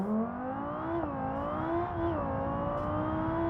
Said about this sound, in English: Exhaust flaps have opened.